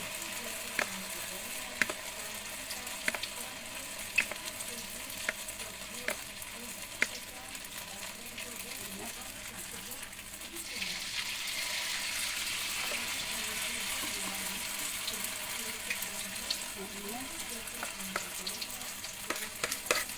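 Battered tempe mendoan fries in hot oil with a soft, continuous crackling sizzle that grows brighter and louder partway through, with no voices.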